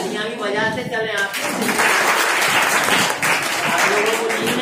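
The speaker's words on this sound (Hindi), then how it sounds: "तालियां भी बजाते चले।" Audience clapping at a government higher secondary school farewell ceremony in Rahatgarh, Sagar, a dense sustained round of applause building after a voice speaks near the start, with talk continuing over it.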